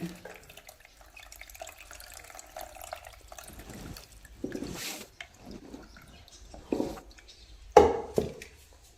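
Water drains off pieces of mango in a home kitchen, a steady trickle and splash with scattered drips and brief louder pours near the end, close up with no talking.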